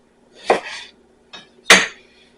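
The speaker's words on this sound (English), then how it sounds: "and then cut those halves into wedges." A knife chops potato halves into wedges on a cutting board, two sharp knocks with a lighter tap between them, close and clear with no talking.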